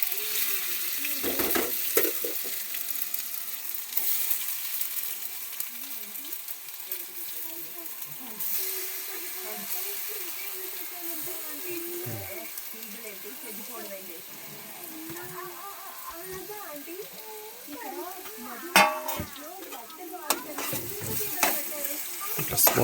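Carrot paste frying in hot oil while a spoon stirs it, producing a steady close sizzle with scraping and stirring noises throughout and brief louder clatters near the end. A voice can be heard faintly in the background.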